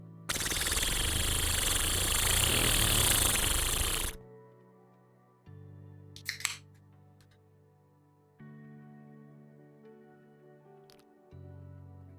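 A voice imitates a lawnmower engine with a loud, buzzing, rasping drone held for about four seconds, followed by quieter electronic tones and brief clicks.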